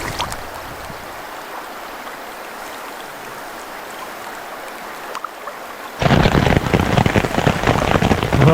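Heavy thunderstorm rain with hail pounds a tent in a remote river wilderness camp, a steady roar that suddenly surges much louder partway through and stays intense, with no talking.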